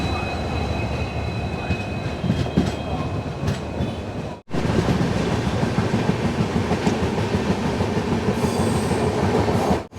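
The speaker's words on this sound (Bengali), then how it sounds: "এই হচ্ছে ইঞ্জিন হ্যাঁ এই ইঞ্জিন টেনে নিয়ে যায়" A train rolling through Durgapura station, loud steady wheel rumble and clatter of carriages close by, with a brief gap midway before the rumble resumes.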